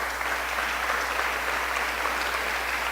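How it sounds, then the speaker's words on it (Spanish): An audience at an international journalists' meeting gives a dense, steady round of applause, many hands clapping at once close up for a few seconds, with no voices over it. "Les damos un fuerte aplauso, por favor."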